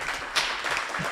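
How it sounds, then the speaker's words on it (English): Hackathon audience at the Telkom Gaming Hackathon winner announcement breaks into brief applause, a dense wash of claps lasting about a second at moderate distance. "So I want to give you all a round of applause, because you're excellent."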